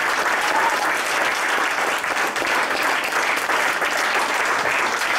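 Dense, continuous applause from a church congregation fills the whole stretch at steady loudness, a close wash of many hands clapping together.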